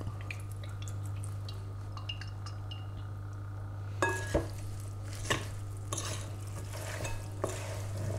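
Pig ear salad being tossed with salt, pepper, vinaigrette and olive oil in a bowl, giving soft stirring scrapes and a few light clinks over a steady low hum, with sharper utensil knocks coming in the second half.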